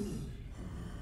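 Link, the video game character in Zelda: Echoes of Wisdom on Nintendo Switch, lets out a short, quiet out-of-breath gasp, heard alone with no talk.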